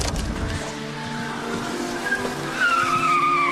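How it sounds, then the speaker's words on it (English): A car pulls away from a house with tyres squealing and skidding, the engine note rising as it accelerates, close and fairly loud with no voices over it. "There's a vehicle leaving the target address now."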